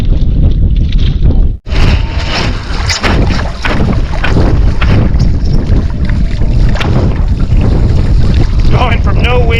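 Strong, gusty wind roars steadily across the microphone while wingfoiling on open water, loud and continuous for the whole stretch, with one brief dropout early on.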